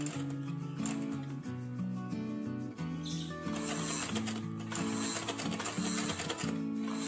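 Sewing machine stitching through very thick denim while replacing a jeans zipper, a steady rhythmic mechanical clatter running continuously and close, with music-like tonal layers underneath.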